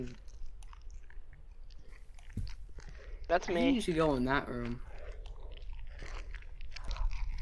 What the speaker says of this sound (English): That is an old man eating something.